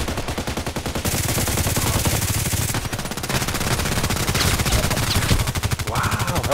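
Rapid gunfire in Contract Wars, a Glock pistol firing close and loud in fast bursts of crisp, closely spaced shots that run almost the whole time.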